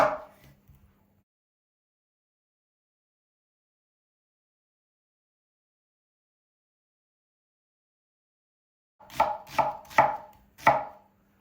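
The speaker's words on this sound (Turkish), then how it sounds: "Soğanlarımızı kuşbaşı doğruyoruz." Onions are chopped into cubes with a knife on a board. A single knock comes at the start, then a long silence, then four quick, close, firm chops near the end.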